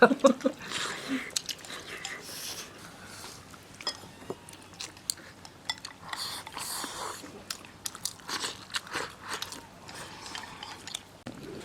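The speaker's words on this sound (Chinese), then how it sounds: "这麦筋脆脆的，鱼肉嫩嫩的，还可好吃了。" Close chewing of crunchy wheat gluten and tender fish from a pickled-vegetable fish stew, with irregular bites and crisp crunches repeating throughout, while someone talks faintly in the background.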